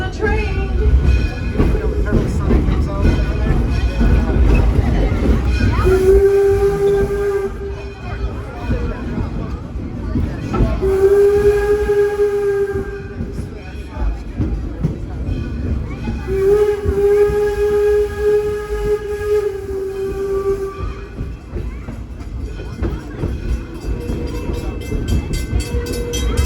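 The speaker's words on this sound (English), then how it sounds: "let's listen to the North American signal for Here Comes the Train" A North American train horn sounds the approaching-train signal in three long blasts, steady chords ringing over a constant rumbling rail and crowd background, with voices talking nearby.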